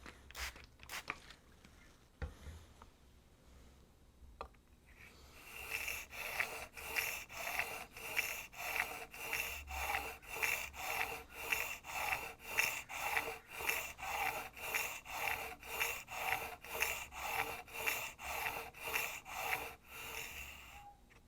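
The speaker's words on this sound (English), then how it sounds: "I'll start with my coarse diamond stone and work through to the extra fine stone." Scraper blade rubbed back and forth on a coarse diamond sharpening stone, a steady run of rhythmic rasping strokes after a few seconds of quiet handling, close and fairly loud with no talk.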